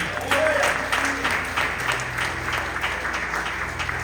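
A church congregation claps together during a family worship service, a sustained round of applause with rhythmic hand claps. Crowd noise and faint voices mix into it.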